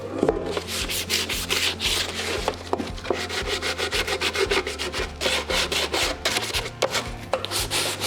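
A small wooden wall pocket is rubbed and sanded to distress it, giving rapid back-and-forth scratchy strokes in a steady rhythm, close and fairly loud, with no one talking.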